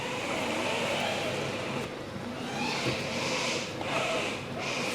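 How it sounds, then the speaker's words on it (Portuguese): Car tyres squeal on a polished granolithic floor as a Ford Fusion Titanium moves slowly, a hissing, whining screech that swells and fades in a few short waves over a steady low rumble, fairly close. "Aqui é o barulho dos pneus chiando no piso da granitina"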